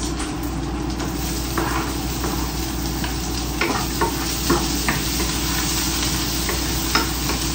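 Garlic and onion fry with bacon in a pan, giving a steady loud sizzle with occasional soft taps and scrapes of a utensil stirring.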